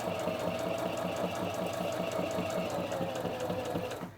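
A Viking Onyx 25 sewing machine stitching fabric at a steady pace, a rapid even mechanical chatter that runs close and moderately quiet, then stops at the end.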